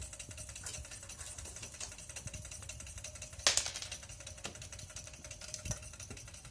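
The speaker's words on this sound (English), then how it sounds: "you can hear the engine actually speeding up" A small Stirling engine runs fast, a quiet, rapid mechanical ticking and whirring with a faint steady hum, close by, and a brief louder clatter midway.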